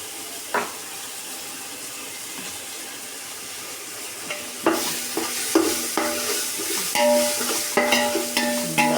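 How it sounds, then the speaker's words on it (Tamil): Ginger sautéing in a pan for a simple home-style biryani, with quiet stirring and faint scraping that build into a busier, louder sizzle and clatter of spoon against pan in the second half. "இஞ்சி போட்டு பச்சை வர நல்லா வதக்கணும்"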